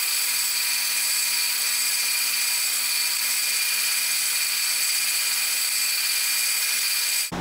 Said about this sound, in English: So I'm going to drill the center ones out first, and then I'll do the 12 last